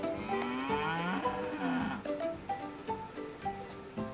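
A Jersey dairy cow, a bred heifer newly arrived on a farm, moos repeatedly in close succession: loud, near, wavering calls with short breaks between them, and no speech.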